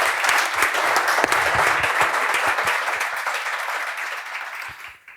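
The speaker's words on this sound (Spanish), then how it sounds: "le damos un aplauso y empezamos" Audience at a Spanish-language talk event applauds steadily and loudly, a dense wash of clapping that gradually thins and fades out near the end.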